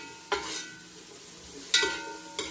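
Onions sautéed for sinabawan na bangus in a salad mustard pan make a low, soft sizzle broken by a few sharp stirring clinks and scrapes, fairly faint.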